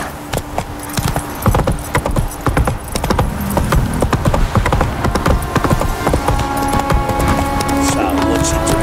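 Rhythmic clip-clop of horse hooves at a gallop in The Witcher 3 game, steady and fairly loud, mixed with game ambience and a voice speaking over it.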